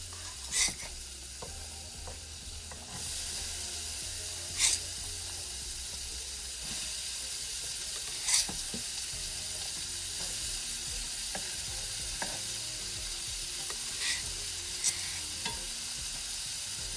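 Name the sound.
onions and peppers frying in buttered pan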